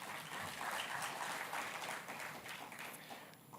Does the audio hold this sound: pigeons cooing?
no